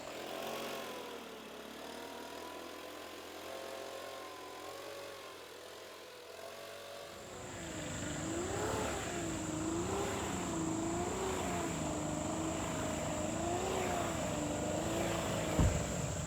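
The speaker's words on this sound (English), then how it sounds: "get your blower, put your earplugs in, I'm about to put mine in, and blow the fertilizer off the driveway and the sidewalk" A leaf blower clearing fertilizer from a driveway and sidewalk starts up partway through and then holds a steady, fairly loud engine drone with a high whine and small pitch swells, following a quieter stretch of outdoor hum.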